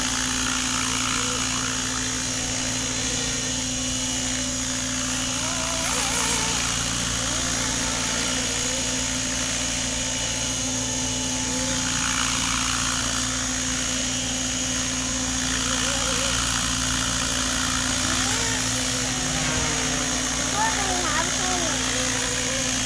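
Loud, constant helicopter rotor and engine roar dominates throughout a descent to land, with a steady whine and a low droning hum.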